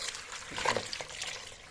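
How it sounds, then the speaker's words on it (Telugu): Water is poured over freshly cut greens in a container to wash them before juicing, a soft splashing trickle that swells briefly midway and then settles, close by and quiet. "ఇలా నీళ్ళు పోసి 2 టైమ్స్ శుభ్రంగా కడుక్కోవాలి."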